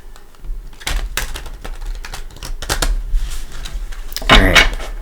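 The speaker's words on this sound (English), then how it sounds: "I don't know why I'm shuffling it so much." A Rider-Waite style tarot deck is shuffled by hand, producing close, crisp bursts of card clicks and riffles in irregular clusters, with the loudest flurry near the end.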